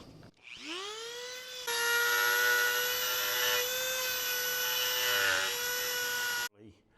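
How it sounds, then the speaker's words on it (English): A Dremel rotary tool revs up and grinds into a table surface, a loud high-pitched whine holding steady for about five seconds before cutting off abruptly. "We're gonna take this Dremel, we're gonna make it look more organic."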